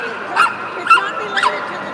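German Pinscher dog at a kennel club dog show gives three short yips or barks at an even pace, moderately loud over steady background murmur.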